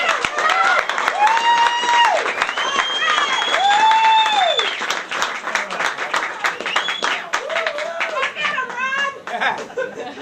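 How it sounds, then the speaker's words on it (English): A crowd applauds a mayoral candidate at his campaign announcement evening, dense sustained clapping with laughter and whoops mixed in, loud and close throughout. "So really a round of applause for Ron Gambardella."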